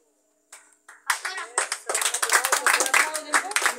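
Church congregation clapping at a ceremony giving shoes to children, a sudden burst of quick, dense handclaps rising from scattered claps into steady loud applause.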